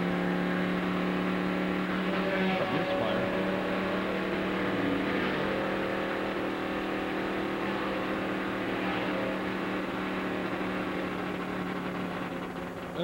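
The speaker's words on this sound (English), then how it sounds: "That rattling around is rods and things all trying to find a way out of that engine" A damaged race car engine drones steadily with a rough, rattling clatter of loose connecting rods running through it, heard from on board at constant loudness during a night endurance race at Daytona.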